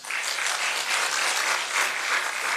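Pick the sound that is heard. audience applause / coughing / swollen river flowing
audience applause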